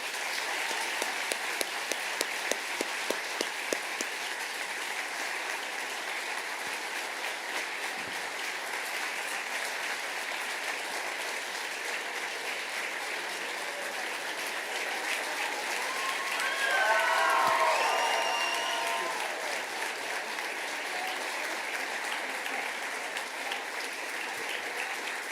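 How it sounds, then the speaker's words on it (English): A school awards ceremony audience applauds, steady crowd clapping that holds evenly throughout, swelling slightly in the middle with faint murmuring and a brief whistle-like tone in the background. "Can we give them a big round of applause?"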